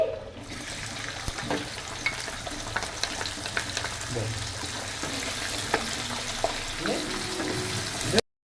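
Chopped onion fries in hot oil in a kadai, giving a steady, dense sizzle up close with frequent stirring scrapes and taps throughout, then a brief louder clatter at the end before everything cuts to silence.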